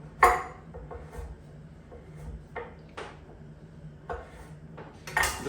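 Coconut oil and coconut cream dropped into a cooking pot: a few dull clunks and scrapes against the pot, spaced irregularly and fairly close, with a low background hum and no talk.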